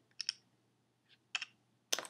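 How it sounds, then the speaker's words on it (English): Interface clicks and keyboard effects from the DragThing dock app: a few short, crisp tapping bursts in a quiet room, spaced irregularly, with one faint click between them. "you'll hear some clicks and keyboard sounds"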